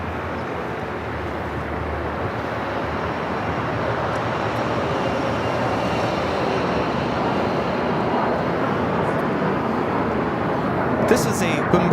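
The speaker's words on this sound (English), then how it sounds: "This is a Bombardier Global Express." A Bombardier Global Express business jet at Los Angeles airport, a steady broadband engine roar that slowly builds in loudness, with voices chatting over it.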